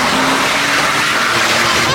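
A Porsche engine roars loudly and continuously up close with a hissing, airy whine like a vacuum cleaner, a steady dense drone without breaks.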